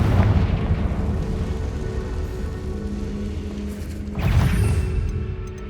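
Confringo blasting spell in the Hogwarts Legacy video game: a sustained, dense rumbling roar with a fresh explosive burst near the end, loud and close, with no speech.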